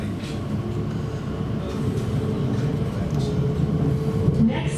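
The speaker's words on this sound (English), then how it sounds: "This is the train to Maidenhead." A train to Maidenhead, England, rumbles steadily along the rails, a low continuous roar with faint rattling, heard from inside a carriage.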